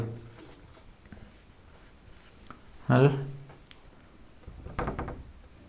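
Pen or chalk writing out a Class 9 maths solution, with faint scratchy strokes under a voice explaining in Hindi, plus a few soft knocks from handling.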